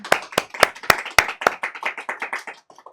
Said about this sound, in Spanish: me gustaría que se reconociera a la maestra Catherine Erazo González con un fuerte aplauso